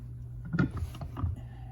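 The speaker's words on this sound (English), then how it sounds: "using your vise again, we're going to push slightly" A bench vise presses a PTO bearing into a 2-stroke trimmer housing, giving faint creaks and a couple of soft grinding squeaks at close range in a quiet room.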